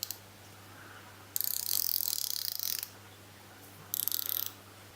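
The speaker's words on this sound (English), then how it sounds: "it has an 80-point ratchet." Wera Joker 80-point ratchet wrench clicking in two fast fine bursts, a longer run then a shorter one, close and crisp against a quiet background hum.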